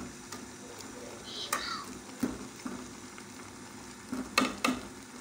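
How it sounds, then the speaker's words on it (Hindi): Vegetable noodles being stirred and cooked in a pan, a soft continuous sizzle broken by several sharp scrapes and taps of the spoon against the pan, heard alone. "अब हम इसमें अपने नूडल्स ऐड करेंगे और इसको हम अच्छे से मिक्स कर लेंगे"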